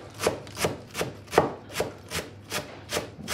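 A knife finely chops parsley stalks on a board for kimchi, with about nine even, steady chops at a regular rhythm, close and clear with no talk.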